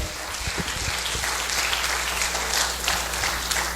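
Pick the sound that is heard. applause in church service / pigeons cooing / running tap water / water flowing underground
applause in church service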